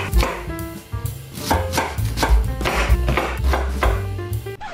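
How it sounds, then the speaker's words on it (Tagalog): Onion is being chopped with a knife on a board, a quick run of firm, close, rhythmic thuds continuing steadily without pause. "Chop na natin ang onion."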